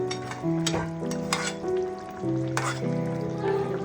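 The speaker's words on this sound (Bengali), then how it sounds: "এবার একটু নেড়ে দেবো" Potatoes and vegetable stalks with poppy seed paste and onion are stirred in a pan, giving intermittent scraping and clinking strokes over a low bubbling sizzle, with a steady tonal hum in the background.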